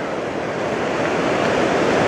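Water at the shore of a river in Norway's Numedal valley near Kongsberg, a loud, steady rushing wash of moving water with some wind buffeting the microphone and no voices.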